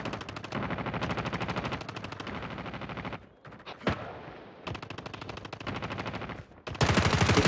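Gunfire in Call of Duty multiplayer, with long loud bursts of rapid automatic fire broken by brief pauses and a single sharp blast near the middle.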